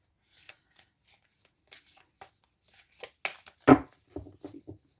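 Oracle cards are shuffled in soft, irregular riffles and slaps, close up and fairly quiet, with a sharper snap near the end.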